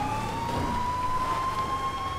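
A GTA V police siren holds a steady, piercing tone that drifts slightly upward, loud and unbroken over road and engine noise, with no talking.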